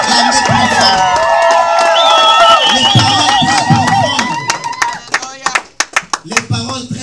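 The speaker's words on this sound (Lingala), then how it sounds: "Est-ce qu'on peut acclamer? Est-ce qu'on peut acclamer profond?" Wedding guests erupt in loud cheering and whooping, with shouts close by. The cheers then give way to a burst of sharp, scattered clapping that tapers off near the end.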